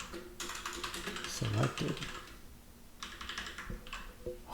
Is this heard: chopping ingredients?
no